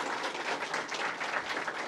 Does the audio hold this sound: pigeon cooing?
no